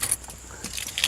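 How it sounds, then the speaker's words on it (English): Keys jangle and clink briefly as the key is pulled from the ignition of a 1995 Ford F-150 pickup, a short close metallic rattle. "Pull the key out."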